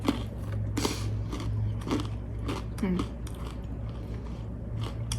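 Someone bites into a pretzel and chews it close up, with a few crisp crunches followed by softer mastication sounds under a low background hum.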